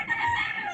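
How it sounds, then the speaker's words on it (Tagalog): A native chicken in Batangas gives a short, close, scratchy cluck-like call, a single brief burst with no talking. "Native manok."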